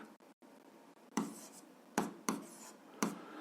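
A pen or pencil scratches on paper as someone writes out an algebra equation by hand. Faint scribbling strokes are broken by a few sharper taps and scrapes, close by and quiet.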